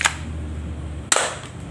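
Glock 26 replica mini handgun fired once, a sharp, snappy crack close by, preceded by a faint click and followed by quiet room tone, with no voices.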